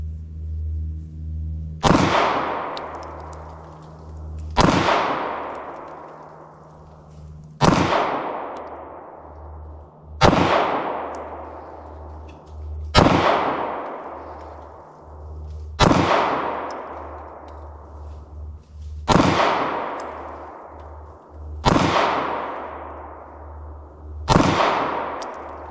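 Taurus GX4 Micro pistol fired outdoors, sharp loud reports spaced a few seconds apart, each with a ringing tail, about nine shots in a slow steady rhythm.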